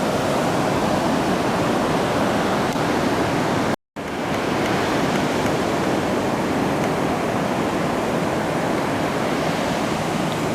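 Ocean waves at Da Nang wash steadily onto the shore in a broad, continuous hiss, with one brief dropout partway through and no voices heard.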